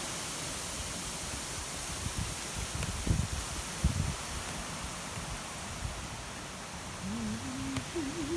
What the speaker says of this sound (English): These leaves are just rolling down, like one by one in the wind